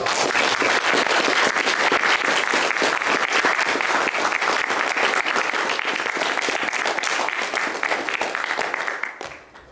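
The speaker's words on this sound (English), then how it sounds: "How about one more applause for our Eagle Scouts?" Sustained applause from an audience honoring Eagle Scouts at a ceremony, dense steady clapping filling the room at full strength for nearly ten seconds before tapering off at the end.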